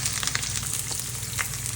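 Hot oil sizzles and crackles steadily in a pan while street-style veg noodles are being prepared, a dense continuous hiss with small pops, close and fairly loud, no voices.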